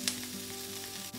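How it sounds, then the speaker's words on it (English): Curry leaves crackle and sizzle in hot oil over softened tomatoes and onion, a short, steady, close frying hiss with no voices. "Adding some curry leaves."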